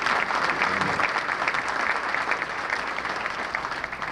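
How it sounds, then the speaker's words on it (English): A banquet audience claps together in praise, a steady wash of hand claps from many people throughout, with faint crowd murmur underneath. "let's give God a hand clap of praise"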